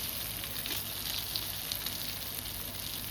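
Masala-coated fish frying crisp in a pan, a close, dense, even sizzle of hot oil that holds steady throughout with faint crackles.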